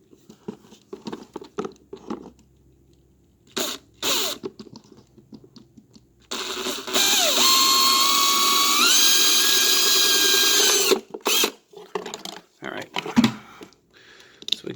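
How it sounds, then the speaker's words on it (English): A power drill bores a hole near the rim of a plastic bucket being made into a honey bee feeder, a loud steady whine lasting about four seconds with the pitch dropping as the bit bites, framed by handling clatter and brief talk. "We want to drill a hole as close to the top of this as possible."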